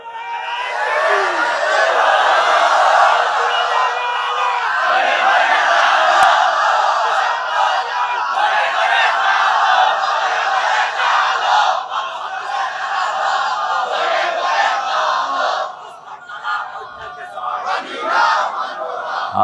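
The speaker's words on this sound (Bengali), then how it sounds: "জোরে দাও, তাকবীর দাও।" A large crowd at a religious sermon in Dhaka shouts a takbir in unison, a loud sustained roar of many voices lasting around fifteen seconds before tapering into scattered shouts.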